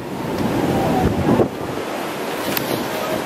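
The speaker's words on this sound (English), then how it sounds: "It's windy." Strong wind at the Welsh Mountain Zoo in Wales gusts across the microphone, a loud continuous buffeting roar that peaks briefly around the middle, then settles into a steadier blow.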